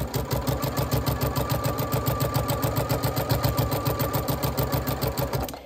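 A sewing machine stitches a quilt binding with a 1/4-inch seam allowance, running up toward a mitered corner. It gives a steady, rapid, evenly pulsing whir, close and continuous for the whole stretch, with no talking.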